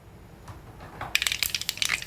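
Mustard seeds spluttering in hot oil for Kongunadu-style sambar: after a quiet start, a dense burst of sharp pops and crackles at close range, loud and irregular.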